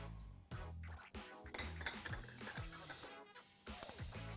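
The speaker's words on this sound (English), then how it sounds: "we'll give that a little stir" A spoon clinks and scrapes against a bowl while stirring crab cake mixture seasoned with Worcestershire, Old Bay and dry mustard. Irregular close knocks and scrapes keep repeating, fairly quiet, with no talking.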